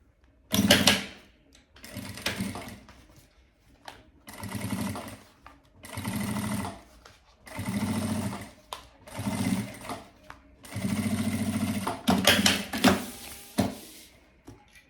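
Sewing machine topstitching fabric at stitch length 5 on an embroidered zippered pouch, running in repeated bursts of steady mechanical whirring separated by short pauses, close and clear with no talking.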